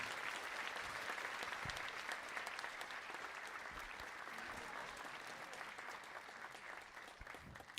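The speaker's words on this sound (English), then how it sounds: "Please give yourselves a round of applause." Applause for donors at the MIT Mystery Hunt closing ceremony, a full, sustained patter of many hands clapping, heard faintly and tapering slightly toward the end.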